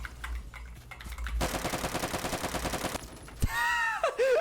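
Rapid automatic gunfire rattles in a long sustained burst in the Roblox game Phantom Forces, followed by a single sharp shot and a rising, wavering game sound effect. No voices are heard.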